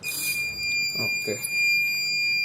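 An in-car fire and carbon monoxide detector sounds its buzzer, a steady high electronic tone running through the whole short stretch, with brief voices or thumps breaking in near the middle.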